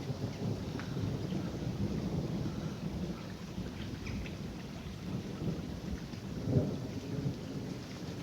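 Heavy rain pours steadily during a thunderstorm at Westcliff while thunder rumbles low and continuous, swelling briefly near the end; no voices.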